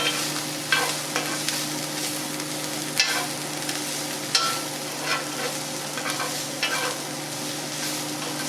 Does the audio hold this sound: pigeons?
no